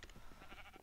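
Sheep bleat faintly in the video game Agrarian Skies 2, a few short wavering calls repeating in a quick rhythm, quiet and distant.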